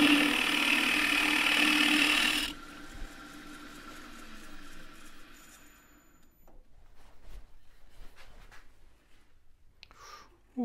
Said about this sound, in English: I'm going to use the spindle gouge.